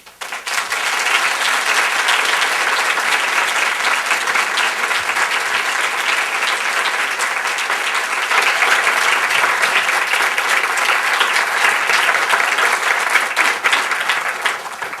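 A large audience at Harvard welcomes a speaker with loud, sustained applause, a dense unbroken roar of clapping lasting about fifteen seconds with no voices over it.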